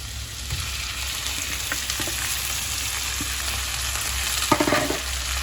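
Chana dal and chicken keema fry in a pan with a steady, close sizzle, broken by occasional stirring scrapes and a louder clatter near the end; no one speaks.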